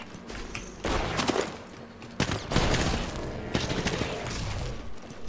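Enemy gunfire in a video game, heard as dense, loud bursts of rapid shots in several volleys separated by brief lulls, close and filling the whole stretch.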